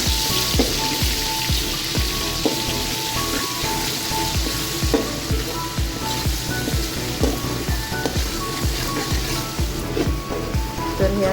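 Pieces of fish, Uttara Karnataka-style fry, sizzle and crackle steadily in a small shallow pan, a dense continuous hiss with rhythmic scraping or turning sounds recurring every second or so, close and loud, with no talking.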